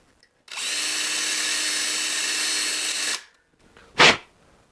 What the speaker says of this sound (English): I found a 5/16 drill bit in my electric drill here